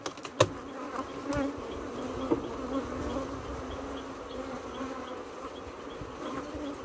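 Honey bees buzz at a beehive in a colony that has lost its field bees, a steady low drone with a few louder passes close by and a sharp click near the start.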